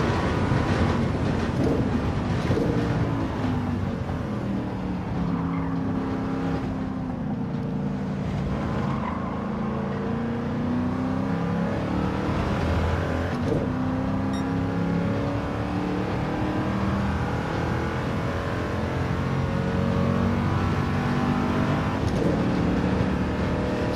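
A 1967 Ford Mark IV race car in Gran Turismo 7 on the Le Mans circuit, its strong engine roaring steadily at high speed, with pitch rising and falling through gear changes and acceleration, loud and continuous with no talk.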